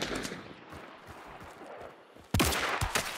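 Rifle fire from a Vetterli 71 Cyclone in an online shooter game, with distant gunfire crackling early, then a sudden loud close shot followed by a sharp second report and echoing tail.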